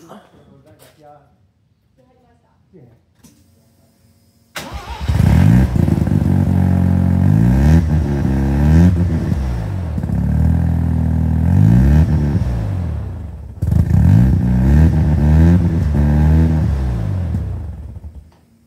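An old car engine cranks and catches with a loud start, then revs up and down in strong surges, with a brief drop and a second burst of revving; faint talk precedes the start.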